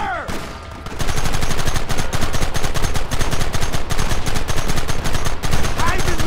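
Heavy sustained gunfire from a Red Dead Redemption shootout, with rapid overlapping shots forming a loud, continuous barrage that begins after a brief quieter moment.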